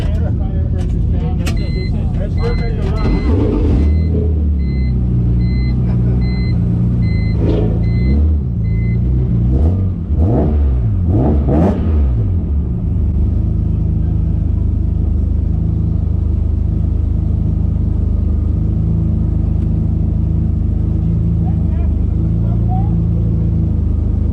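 An S54-engined widebody BMW E30 rumbles on a race track with a steady, droning engine note, rising and falling through the first half, while people talk over it.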